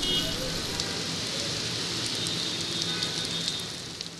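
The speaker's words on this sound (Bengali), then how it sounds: "মেঘাচ্ছন্ন আকাশের বুক চিরে হঠাৎই বৃষ্টির ফোঁটা তপ্ত নগরীর বুকে।" Rain falls on a hot, cloud-covered city as a steady, loud hiss of drops on surfaces, fairly constant and easing slightly at the end.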